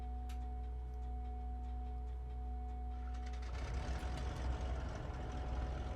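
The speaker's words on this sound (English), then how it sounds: "And we're going to go for a left engine start." A Cessna 414 left engine in a flight simulator: steady low idle hum with tonal whine, then around three seconds a starter catch and the engine fires into a rougher, louder running roar with broadband noise, no talking.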